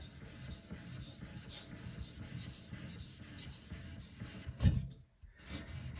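A Karaku AS 210mm gyuto is thinned and sharpened on a whetstone, with steady close rasping strokes rubbing across the stone and one brief louder knock near the end.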